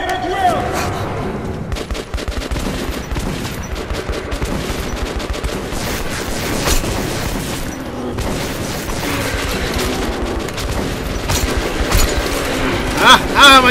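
Continuous rapid gunfire in the Metro 2033 Redux video game, a dense fusillade of shots with booming impacts filling the whole stretch, with voices shouting beneath it.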